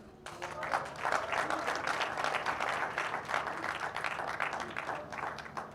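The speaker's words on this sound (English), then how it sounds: "we'll just give a round of applause" A summit audience gives a warm round of applause, many hands clapping steadily and fairly close for several seconds without anyone speaking.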